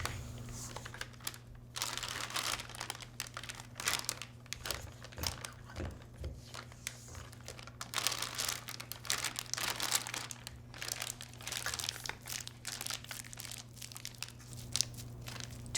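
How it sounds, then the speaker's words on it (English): Cookie dough for spritz cookies is scraped by hand into a piping bag fitted with a large star tip, producing soft, continuous crinkling and rustling of the bag and scraping, steady over a low background hum, with no voices. "We'll use this hand to help scrape the mixture and deposit it in the bag."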